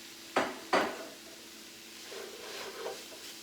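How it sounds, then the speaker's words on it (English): Tofu goes into a pan with two sharp utensil knocks, followed by a soft, low sizzle and quiet stirring scrapes. "So now I'm going to add the tofu"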